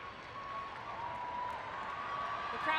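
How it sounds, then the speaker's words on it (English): Stadium crowd at a women's football match in Houston, a Panama vs United States qualifier, producing a broad, steady roar of cheering and whooping from afar as the team sets for a corner kick, with commentary over it. "The crowd in Houston cheering on the world champions as they get set for yet another corner."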